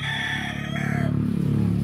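A fighting rooster kept by a family crows once close up, a loud strained call that trails off. A low rumbling thrum carries on underneath it.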